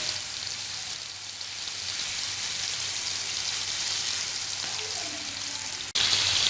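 Mutton liver sizzles steadily on a hot tawa as it is stir-fried over medium heat, a continuous close crackling hiss with a brief break and a sharper burst near the end.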